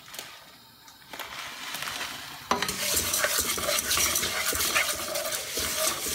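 Vermicelli drops into hot clarified butter, and the quiet pan swells into a loud, steady sizzle and crackle with stirring scrapes, heard up close without any talking.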